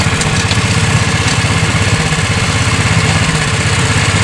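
An antique car's engine runs steadily with a close, loud, rhythmic low chugging that sounds almost like a tractor, holding an even beat throughout with no talking.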